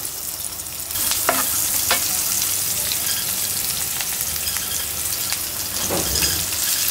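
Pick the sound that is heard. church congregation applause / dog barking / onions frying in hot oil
onions frying in hot oil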